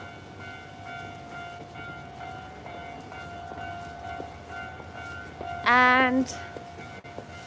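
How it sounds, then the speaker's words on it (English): A train passes at Shimokitazawa station in Tokyo, a steady rumble of rolling cars with a loud horn-like blast near the end, amid street noise and a brief word of talk. "Train."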